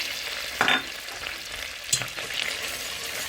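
Flour being mixed into a hot pan for lemon pepper chicken wings, a continuous frying hiss with two sharp utensil scrapes against the pan, close and moderately loud.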